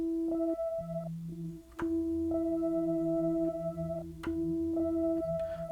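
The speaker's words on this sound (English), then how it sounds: "there's this new one called PS delay, which is a pitch delay" A synth in Arturia Pigments 3 with a pitch delay effect plays short sustained tones, each echoed by a delayed copy an octave lower, stepping through a repeating melodic pattern with sharp clicks between notes.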